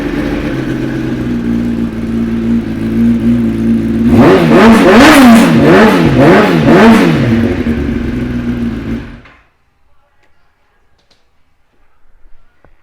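A 2019 Kawasaki ZX10RR Winter Test Edition sport bike starts and idles loudly up close, then gets several quick throttle blips that swell and fall before the engine cuts to near silence.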